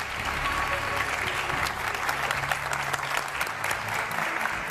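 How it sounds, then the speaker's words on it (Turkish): Applause from a studio audience on a Turkish TV word-game show, a steady dense wash of clapping that stays at an even level throughout, with a faint murmur of the crowd underneath. "Bir alkış isterdik mesela."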